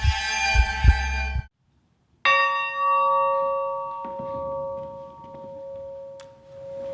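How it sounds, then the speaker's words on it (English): A church bell strikes once, loud and close, then rings on with a long, clear, slowly fading hum; a brief clatter of other sound comes just before it. "And the sound of that bell, my children, means it is time for Bible study."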